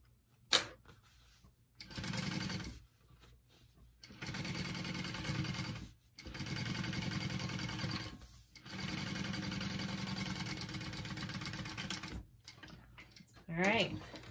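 A sewing machine top-stitches a folded seam on a handbag front panel, running in several steady bursts of a few seconds each with short pauses between them.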